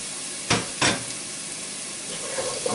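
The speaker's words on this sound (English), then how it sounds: "And give it a stir." Finely chopped garlic sizzles in a pan with a steady hiss, broken by two brief louder stirring scrapes near the start and faint clinks later, with no talking.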